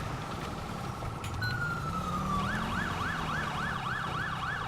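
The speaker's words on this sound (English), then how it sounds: "Probably don't actually need sirens up here." A police car siren in the GTA 5 video game wails in a rising and falling yelp pattern over a steady engine drone, loud and continuous throughout.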